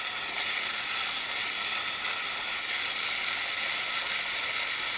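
A Mabis steam inhaler releases dry steam in a steady, loud, close hiss that holds constant and unbroken throughout, with no voices.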